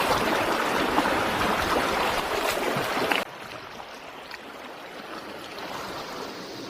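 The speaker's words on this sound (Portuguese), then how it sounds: "o riacho que desce pelo vale forma uma piscina natural" A stream running down a valley behind a beach on the Sardinian coast makes a steady broad rushing wash. Partway through it drops abruptly to a quieter, softer flow.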